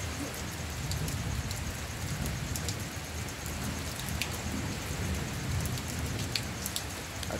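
Steady rain pattering on surfaces during a storm, with scattered sharp drop impacts and a low underlying rumble of thunder, continuous and moderately quiet with no voices.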